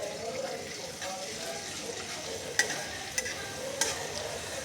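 Ginger and garlic fry in hot oil for chilli chicken, a steady close sizzle with a few sharp clicks of a utensil against the pan.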